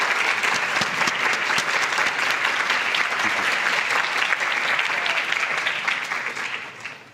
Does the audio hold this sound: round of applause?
yes